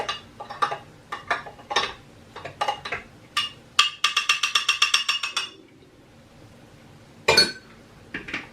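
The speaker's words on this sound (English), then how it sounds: "So I just take the spoon and give it a little stir." A spoon stirs strawberry daiquiri inside a blender jar, giving scattered clinks against the glass, then a fast rattling run of taps, a quiet stretch, and a few final knocks, close by.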